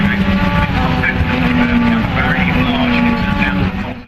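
Race cars roar loudly on a track during a big crash, a sustained engine scream with tire squeal and impact noise, under an excited commentator's voice.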